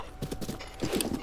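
A horse in the video game The Legend of Zelda: Breath of the Wild trots with rhythmic hoof clip-clops, two quick bursts of hoofbeats close by and fairly loud, with no talk over them.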